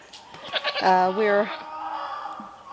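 A single loud, wavering goat bleat rings out close by, followed by quieter background noise.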